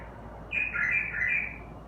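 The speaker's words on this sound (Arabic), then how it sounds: "العلم هذا بلبل وحشي" A wild bulbul sings a short, bright warbling phrase lasting a little over a second, clear and fairly close above a low steady background hum.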